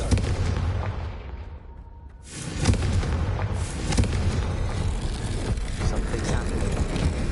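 A Confringo spell explodes in the Hogwarts Legacy video game, a loud, sustained burst of booming blast noise that swells and rumbles for several seconds, with dense crackling debris throughout.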